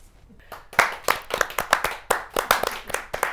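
An audience claps slowly and rhythmically for the drummer at a live music show, sharp evenly spaced claps that gradually build a little, close and clear with no talking over them.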